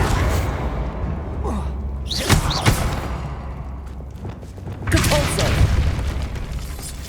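Depulso spell blasts in Hogwarts Legacy boom out in two bursts, a sharp crack near the middle and a heavier blast a few seconds later, over a rumbling game soundscape.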